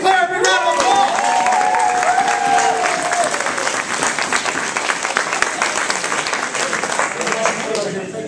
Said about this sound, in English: Give Claire a big round of applause!